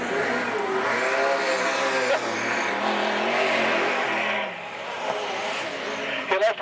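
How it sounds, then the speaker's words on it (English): Outlaw sedan race cars roar around a night speedway in a loud, sustained engine drone that rises and falls as they pass, with a brief squeal near the end. "Darren Hawkins races away at the moment"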